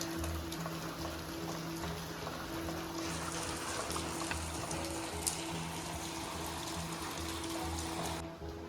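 Heavy rain falls outside a house in a Konkan village, a steady wash of hiss with a low droning hum underneath, continuous and moderately quiet until it cuts off near the end.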